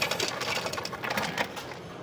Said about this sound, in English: Coke Freestyle machine's right here. Fill up your ice.